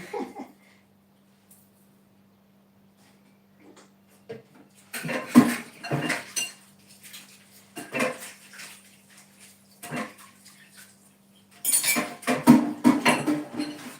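Clinking dishes and cups being washed, bursts of clattering and rattling in several bouts, with a steady low hum running underneath.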